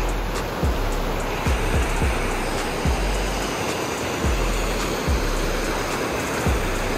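Water rushing down a mountainside, a steady broad wash of flowing water with faint low thumps like footsteps passing along a trail nearby.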